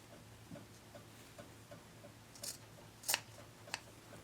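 Scissors trim a sewn fabric seam in a quiet indoor room, giving a few soft snips and then two sharper, crisp cuts near the end.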